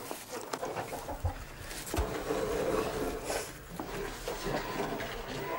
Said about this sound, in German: Auch 30 Hühner halten die Millers.